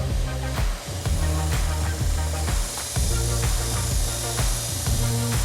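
A steady mechanical whir of a belt sander fitted with a linen belt runs continuously, with a rhythmic pulsing hum and hiss as a golf club head is pressed against the moving belt.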